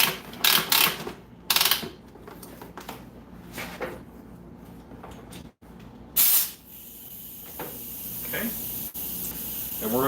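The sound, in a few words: air compressor spraying paint through an airbrush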